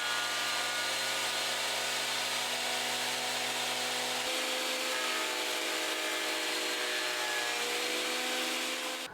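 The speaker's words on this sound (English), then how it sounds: "I'm going to take them over to the planer and get one surface done" A Clarke CPT800 planer thicknesser, a 204mm machine, runs as it planes the surface of glued-up wood. It gives a loud, steady high whine with a rough cutting roar, and the pitch shifts midway as the board feeds through.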